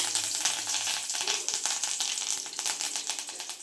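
Mustard seeds crackle and sputter in hot oil, a loud, close, rapid spray of sharp pops over a constant frying hiss, no talk.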